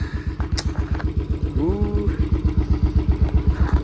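A motorcycle engine idles with a steady, throbbing low pulse, close and loud, revving briefly partway through.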